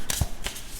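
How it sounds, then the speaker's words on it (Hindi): A deck of tarot cards is shuffled and pulled in two quick riffling bursts of papery flicks, close and brief, with no talk over them. "Let me pull some more cards here."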